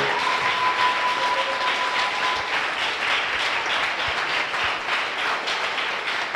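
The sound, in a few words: church congregation clapping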